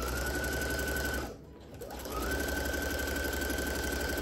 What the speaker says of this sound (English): I do always wonder if you can hear me over the sewing machine.